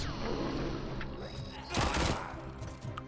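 Gunfire from a stronger weapon in a video game cracks out in rapid bursts, with a loud cluster in the middle, mixed with other game noise and what may be a voice.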